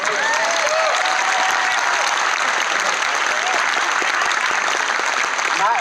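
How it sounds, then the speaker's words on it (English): A crowd applauds loudly and steadily, with sustained clapping and a few cheers throughout. "can we get a round of applause for our volunteers?"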